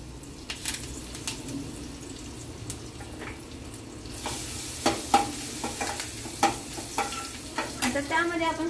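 Garlic and curry leaves crackle and sizzle in hot oil in a pan for spinach curry, with sharp spattering pops and stirring scrapes growing busier and louder toward the end.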